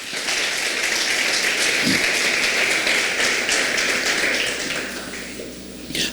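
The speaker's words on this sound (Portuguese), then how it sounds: "Então aplauda a Deus aí com muita alegria." A church congregation applauds during a sermon, a dense, steady wash of clapping that holds for several seconds and then fades toward the end.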